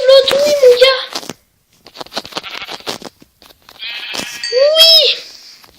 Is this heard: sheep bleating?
yes